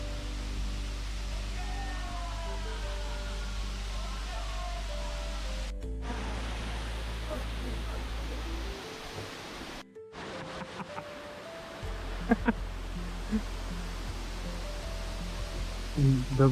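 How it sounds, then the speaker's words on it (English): Waterfall near Kuala Lumpur rushing in a steady broadband roar, close and constant, briefly muffled and cut out mid-clip before resuming with scattered clatters. "It does not do the justice of this beautiful waterfall."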